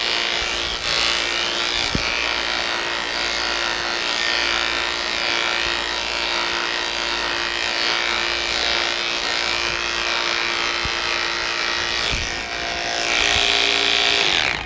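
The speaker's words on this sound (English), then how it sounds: "Now we're done with the clipper part." Electric clippers buzz steadily while grooming a poodle's leg, a close, continuous whine with slight shifts in pitch as the blade moves through the coat, and a short stop near the end.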